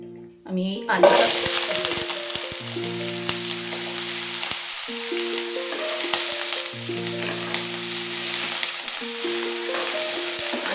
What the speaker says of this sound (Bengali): আলুটা একটু ভালো করে ফ্রাই করে নিতে হবে